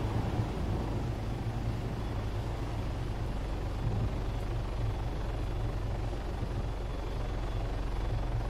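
A helicopter in flight in Arma 3: a steady, dense rotor and turbine drone holding constant at moderate level, with no talk over it.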